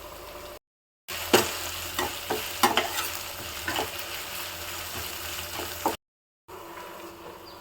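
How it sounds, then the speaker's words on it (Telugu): Mutton liver frying in a pan with ginger and garlic, a steady sizzle under repeated stirring scrapes and clatters, broken briefly by two short gaps of silence. "కడిగి పెట్టుకున్న లీవర్ లేచి ఇక ఫ్రై చేస్తున్నా"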